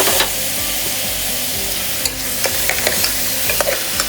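Chilli and bone-in chicken pieces fry in a pan for chicken soup, a steady loud sizzle with repeated scraping stirs and clinks throughout, no talking.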